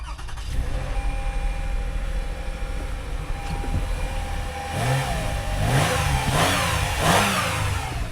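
A Toyota Highlander's engine runs at a car auction, a steady idle that rises into a few revs toward the end, heard up close with no talking.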